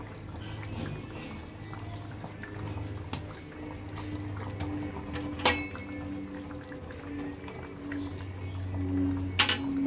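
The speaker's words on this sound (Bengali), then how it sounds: "এবার আমি মাছগুলো অ্যাড করে দিচ্ছি।" Pieces of rohu fish go into a pot of boiling fish curry, giving a steady bubbling simmer with a few brief splashes and clinks, heard close and moderately loud with no talking.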